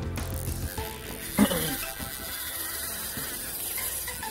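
Fishing reel drag ratchet clicking in quick mechanical bursts as it is adjusted beside a California aqueduct while striped bass fishing, close and fairly loud, with one sharper click standing out.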